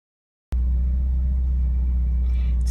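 A Porsche 944 engine idles with a steady, close, deep rumble at dusk as the car is about to be parked. It starts abruptly after a brief silence and then holds even and loud.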